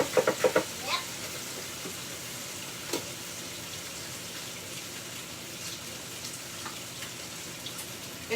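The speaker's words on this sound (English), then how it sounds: "You hear that sizzle?" Meat for a homemade hamburger helper dish sizzling faintly in a pan, a soft steady hiss with a few clinks and stirring taps early on and sporadic crackles throughout, nobody talking.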